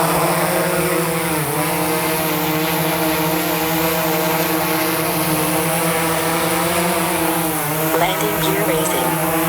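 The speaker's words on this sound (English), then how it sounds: "We're gonna go ahead and take off" A DJI Inspire 1 drone lifts off, its propellers making a loud, steady whine with layered harmonic buzzing that swells slightly near the end, constant throughout with no gaps.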